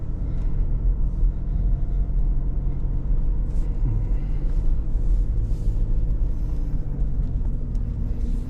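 A Toyota Hilux overtaking on a road: a loud, continuous rumble of engine and road noise that stays steady throughout, heard from inside or close by, with no voices.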